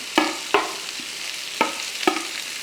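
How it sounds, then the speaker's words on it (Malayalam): Chopped onion and green chilies fry in hot coconut oil for egg puffs filling, a steady broadband sizzle broken by a few sharp clanks of a spoon stirring the pan, close and alone with no talk. "ഈ വെളിച്ചെണ്ണ ചൂടായതിന് ശേഷം ഇതിനകത്തോട്ട് സവോള അരിഞ്ഞതും പച്ചമുളകും എല്ലാം കൂടെ അങ്ങോട്ട് ഇട്ട് കൊടുക്കും"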